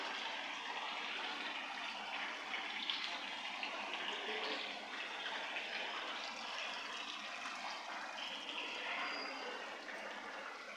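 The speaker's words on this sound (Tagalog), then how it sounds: "Nice fountain, lagoon." Hotel fountain and lagoon water splashing steadily, a continuous broad wash of falling water that stays even and fairly loud throughout with no talking.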